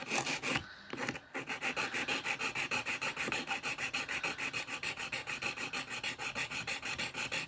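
An RC car hard body is being filed to smooth its rough edges, giving a steady run of rapid, rhythmic rasping strokes close up after a brief pause.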